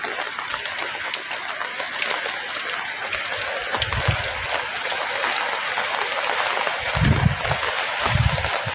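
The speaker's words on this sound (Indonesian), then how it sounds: "Suasana hujan tuh teman-teman" Rain falls steadily outside simple rural houses at the edge of a plantation in Malaysia, a dense, even hiss of drops, with a few low thuds and rumbles breaking through near the end. No one speaks.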